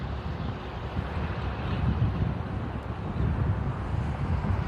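Steady outdoor breeze blowing across the microphone during a hitchhiking trip, a broad continuous rushing roar with low buffeting gusts that swell slightly louder midway, with no voices.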